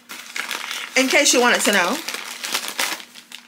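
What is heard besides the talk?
newspaper crinkling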